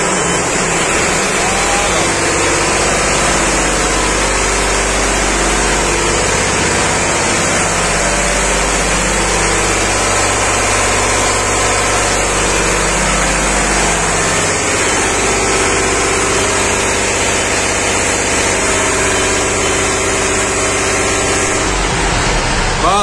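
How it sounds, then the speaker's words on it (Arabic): The diesel engine of a fire sprinkler pump station runs at a steady, loud drone with a broad roar, continuous and unchanging throughout with no pauses. "هاوليك هنا المحرك راهو يتمشى عادي، راهم يطفيو في الحرائق."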